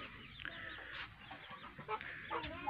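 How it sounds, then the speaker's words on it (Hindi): Chickens cluck in short, scattered bursts at close range, with a few sharper squawks standing out over a steady background hiss. "ये थोड़ी मुर्गी वगैरह यहाँ पे मौजूद है।"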